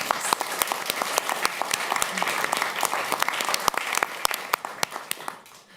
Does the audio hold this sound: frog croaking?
no